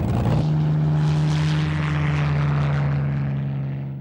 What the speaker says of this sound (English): Sometimes they were armed with rockets, like these Spitfires.